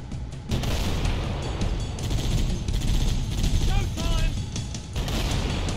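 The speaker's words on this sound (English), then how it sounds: "I forgot I have the machine gun on this one as well. Let's snipe with the tank." Tank machine gun firing in Halo: Combat Evolved, a dense, continuous rattle of rapid shots and booms layered with battle noise; a voice speaks now and then over the gunfire.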